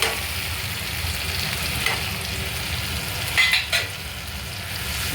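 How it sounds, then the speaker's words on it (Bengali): Ginger paste and cumin masala sauté in a pan for brinjal bharta, giving a steady soft sizzle with a few brief clinks of stirring, no talk. "ভালো করে মশলাটা কষবো"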